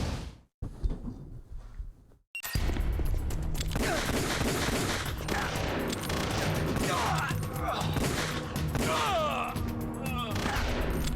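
Sustained video-game gunfire in Metal Gear Solid, with rapid bursts and loud impacts filling most of the clip after a brief quieter opening, while voices speak under the shooting.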